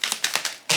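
Tarot cards riffled and shuffled by hand in a few quick bursts of crisp, papery clicks and flutters, ending in one louder riffle, close and with no talking.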